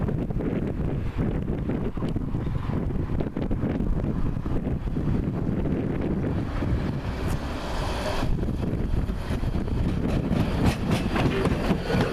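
A tram pulls into a stop in Nottingham, its steady rolling rumble and rail clatter running throughout, with wind buffeting the microphone and no talking.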